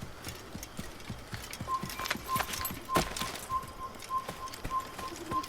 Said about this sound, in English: A walking horse versus a trotting horse.